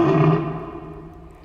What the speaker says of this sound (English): The horrid roar rang through my ears